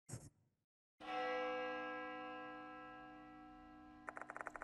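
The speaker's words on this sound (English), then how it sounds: "The sound of a bell rings loudly in my ears. It must be coming from the school's clock tower." A school clock tower bell in the video game Death Mark II strikes once, loud and close, with a long ringing decay and a brief metallic clatter near the end, after a short noise at the start.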